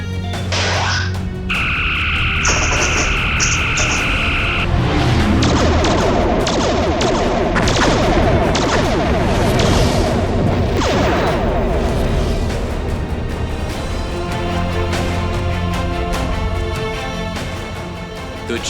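Starship weapons fire and heavy explosions in a Star Trek fan film battle, loud and continuous: repeated booming blasts and crashes layered with sharp energy-weapon bursts and rumbling impacts throughout.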